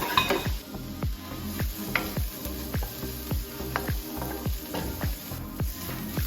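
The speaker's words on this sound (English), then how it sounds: "So we're just going to brown these in a pan." Onions brown in a pan for soup, frying with a steady sizzle while a spoon scrapes and taps the pan in a regular rhythm, close up, with no voices.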